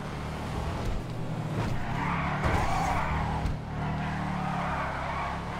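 A Karin Boor car in GTA Online drives with a steady engine drone and tires skidding and squealing through turns, loud and continuous, with brief impact knocks.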